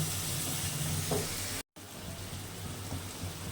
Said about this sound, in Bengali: জল দিয়ে দিয়ে কষাবো মশলাটা যত ভালো কষানো হবে তত ভালো হয়